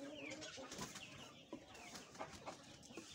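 A hen clucks near her five chicks on a farm, with repeated short clucks and brief cheeps scattered over a continuous, busy background of rustling farmyard noise.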